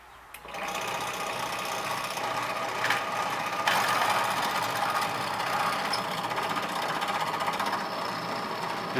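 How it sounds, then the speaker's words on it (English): An old antique drill press runs steadily with a continuous mechanical whir and faint rattling, close and loud throughout, during a fishing kayak seat repair. "Alright, got the old antique drill press there."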